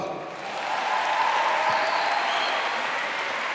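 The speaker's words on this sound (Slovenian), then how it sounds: "A si zaslužijo današnji nastopajoči en velik aplavz?" A school crowd at a student performance show gives a big, dense round of applause for the performers, loud and sustained with a faint murmur underneath.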